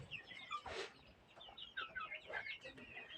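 Sixty-five-day-old native desi hens and roosters on a small poultry farm cluck and squawk in a scattered, overlapping chorus, fairly soft and close, with one louder squawk.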